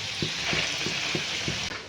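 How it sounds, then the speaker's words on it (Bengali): Potatoes for chicken curry frying in hot oil, a steady close sizzle with soft stirring taps every half second or so and no talking. "এখানে মাংসরই আলুটা ভাজছি"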